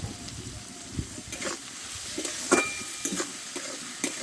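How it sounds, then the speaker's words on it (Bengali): Spice paste for an okra curry, made with ground coriander, ground cumin, turmeric and a little water, sizzles softly as it is stirred, with intermittent scrapes over a low, faint frying hiss. "মশলাটা ভালোভাবে একটু কষে নেবো"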